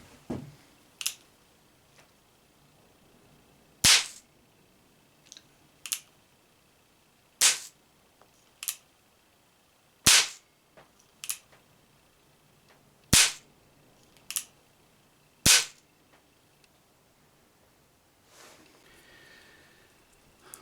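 Homemade percussion caps fire one at a time on an 1851 Navy revolver, about ten sharp, loud cracks spaced a second or two apart, with fainter clicks between and quiet in between.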